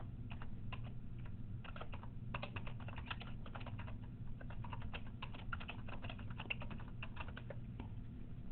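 Student names are typed on a computer keyboard in a quiet room, a steady run of light, fast key clicks in irregular bursts with short pauses, over a low background hum.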